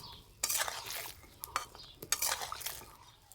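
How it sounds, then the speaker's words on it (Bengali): Mung dal pitha mixture is stirred in a pan, the spoon scraping and clattering in short strokes with a soft sizzle, close and fairly quiet. "এবার এইভাবে নাড়াচাড়া করে নেব।"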